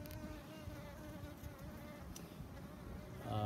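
Honey bees of a local, highly hygienic strain buzzing around a hive, a dense steady hum close by with no voices, swelling slightly louder at the very end.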